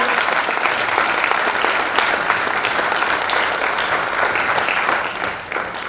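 Loud, dense applause from an audience at a cultural lecture series in Galicia, a continuous roar of many hands clapping for six seconds that dips slightly at the very end.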